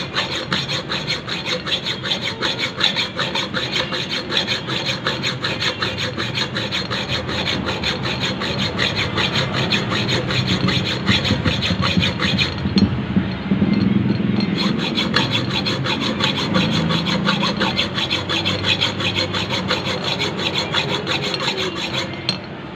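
A sharpened blade cut from a sardine can saws through a rubber bushing in a steady, close rasping rhythm that runs continuously for over twenty seconds, with no talking.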